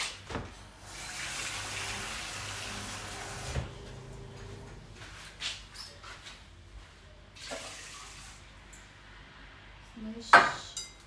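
Water is poured into a pot of rice in a home kitchen, a steady broadband wash for the first few seconds, followed by quieter kitchen clatter and a sharp clank near the end.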